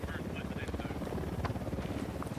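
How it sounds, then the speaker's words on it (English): A helicopter in a video game approaches with a fast rhythmic rotor thump, moderately loud and pulsing evenly beneath other game sounds. "Helicopter incoming."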